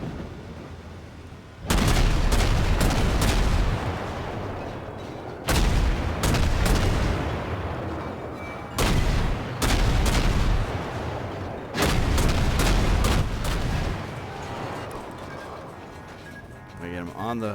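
Destroyer deck guns in World of Warships fire in heavy booming salvos, repeated blasts in clusters every few seconds, loud and close over a rumbling background, with a player talking over them.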